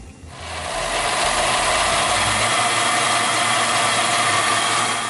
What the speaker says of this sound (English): we're going to put it into the blender